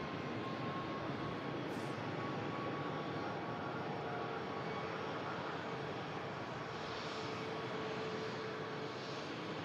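Jet airliners at Manchester Airport rumble steadily in the distance during plane spotting, a continuous broad engine roar that holds at an even level with no talk.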